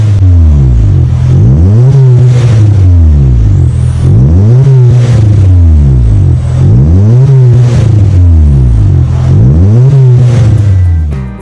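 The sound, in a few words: Honda Brio revving with aftermarket stainless exhaust and resonator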